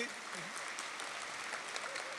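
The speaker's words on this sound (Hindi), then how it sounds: "हाँ ताली तो बजा दो, देखो स्टेज पे आए सभी।" Applause from an audience at a spiritual discourse gathering as people come onto a stage, a steady dense wash of many hands clapping throughout, fairly faint and distant-sounding.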